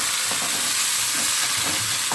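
A tempering of curry leaves and coriander being stirred in hot oil, giving a continuous loud sizzle with a few scraping strokes of a spoon, and no voices.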